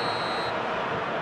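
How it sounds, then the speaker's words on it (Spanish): The referee's final whistle in a PES 2021 football match between Osasuna and Athletic Club sounds as one short, steady high tone over dense stadium crowd noise. The crowd roar keeps going after the whistle stops. "Y aquí está el pitido final"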